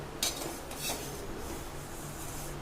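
Vermicelli roasting in a pan as it is stirred, giving a dry, steady rustling scrape with a couple of sharper metallic scrapes of the utensil early on, quiet and close.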